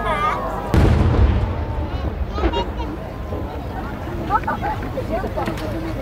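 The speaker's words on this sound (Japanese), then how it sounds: "茨城県野村花火工業野村洋一作登り曲付き虹の花" A firework shell with a rising tail whistles upward before a deep boom, with crackling bursts and a murmuring crowd around it, outdoors and fairly loud, at the Kachimai fireworks festival.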